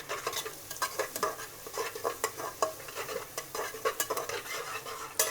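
Garlic fries in a pan while a utensil scrapes and stirs, producing rhythmic close clinks and scrapes over a soft sizzle.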